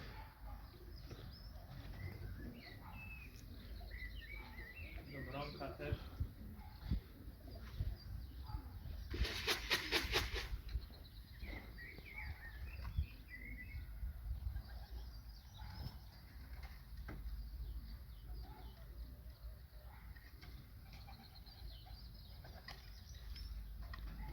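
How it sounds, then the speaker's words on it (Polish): Racing pigeons at a loft during a race flight, soft cooing and scattered bird calls over a low outdoor rumble, with a brief burst of wing flapping midway. "Idą gołębie tam też."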